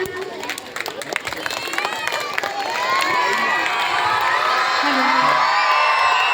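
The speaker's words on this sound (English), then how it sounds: "let's give give a a big round of applause for Jeanat ma'am." A crowd of children at a Children's Day celebration cheering, whooping and shouting, loud and building into a sustained roar with scattered clapping beneath it.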